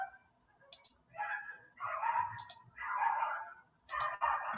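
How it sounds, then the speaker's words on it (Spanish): Neighbours' dogs fighting, with several bursts of snarling, yelping and barking in quick succession, fairly close and loud, separated by short gaps. "Aquí se agarraron los perros de los vecinos."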